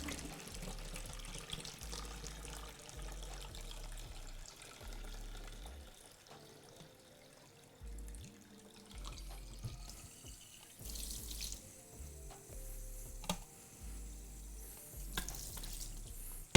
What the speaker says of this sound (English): I'm gonna let that water run just a little bit